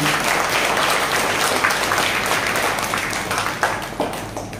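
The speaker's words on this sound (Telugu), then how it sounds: "సార్ చప్పట్లు కొట్టండి బాబాకి." An audience applauds continuously, many hands clapping in a dense, steady wash that tapers slightly near the end.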